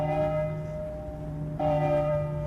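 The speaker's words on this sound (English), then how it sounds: "The bell invites me." A deep church-style bell tolls steadily in a staged performance of Macbeth, its sustained ringing tone struck again partway through with no talk over it.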